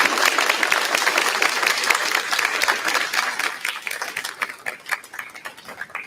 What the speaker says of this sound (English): Please give a round of applause to these extraordinary faculty.